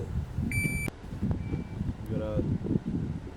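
A shot timer gives a short series of sharp electronic beeps over low background rumble and muffled voices, followed by a few faint tones later.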